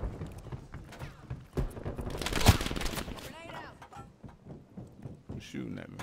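Gunfire in Call of Duty Black Ops Cold War: bursts of rapid shots and a loud blast near the middle, mixed with game effects and clattering, with voices talking over much of it.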